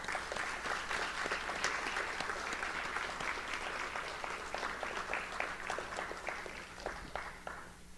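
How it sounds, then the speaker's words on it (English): A school audience applauds inductees at a National Honor Society ceremony in a high school, sustained dense clapping filling the room at even loudness for several seconds before thinning slightly toward the end. "please join me once again in applauding all of our Honor Society members"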